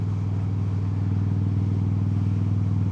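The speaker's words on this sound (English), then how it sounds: "Harley-Davidson American V-twin motorcycle" A 2007 Harley-Davidson Softail Deuce V-twin idles up close with a loud, steady, throbbing lope and uneven pulsing rhythm, alone with no voices.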